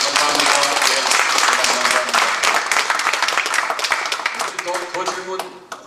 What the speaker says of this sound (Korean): 우리 한번 박수로 한번 우리 변호사님 감사합니다.